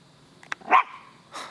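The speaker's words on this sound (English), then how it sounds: "we're like halfway the trail, but there's dogs around." Dogs bark on an outdoor trail: a sharp sound, then one clear, fairly close bark, and a fainter, breathier bark near the end, with quiet between them.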